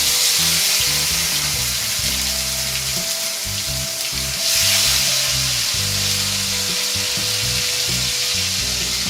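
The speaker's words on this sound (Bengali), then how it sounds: "এবার তেলে দিয়ে দেওয়া হচ্ছে টমেটো পিউরি।" Tomato puree hits hot oil in a pan and sizzles loudly and steadily, a dense frying hiss with bubbling, close and continuous with no talking.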